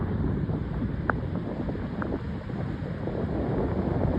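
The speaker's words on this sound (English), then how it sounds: "Breeze coming out of the north, wind chill factor 25." A north breeze blows over the Atlantic Ocean at sunrise, with a steady roar of wind and surf and one or two faint distant taps.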